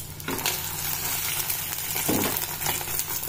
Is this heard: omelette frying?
yes